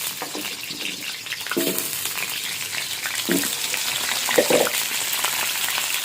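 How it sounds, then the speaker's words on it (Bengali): Potato pieces fry in hot oil for Kashmiri aloo dum, a loud, steady sizzle and crackle close up, with a few scraping stirs and clinks breaking through the continuous hiss. "এটাকে লাল করে ভাজতে হবে।"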